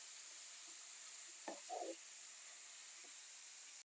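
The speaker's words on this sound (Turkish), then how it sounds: "Bir 6-7 dakika güzelce kavuracağım pırasalarımı." Chopped leeks sautéing in a pan for a leek meze, a soft steady sizzle with a brief burst of stirring and scraping near the middle, faint and close.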